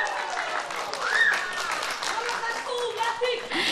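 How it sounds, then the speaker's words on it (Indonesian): An audience at a public debate between candidates for regent and vice regent of Pulau Morotai, Indonesia, applauds the candidate pairs. The applause is moderate and continuous, with talking over it throughout. "Kita berikan tepuk tangan untuk kedua pasangan calon."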